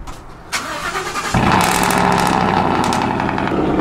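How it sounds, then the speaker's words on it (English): A lifted truck's engine cranks briefly on a cold start, then catches and roars to life, settling into a loud, steady rumbling idle close by. "it's mandatory. Cold start."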